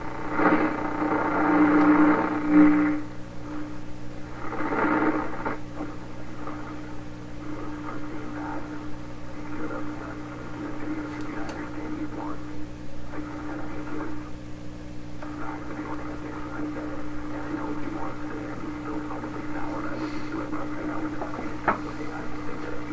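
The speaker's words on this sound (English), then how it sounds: "A lot of these noises you're hearing, these are noises the radio is receiving from external." Continuous hiss and crackling static with a steady low hum, louder at first and then settling into a quieter noisy wash, as a 1928 RCA Victor Model 28V radio picks up external interference.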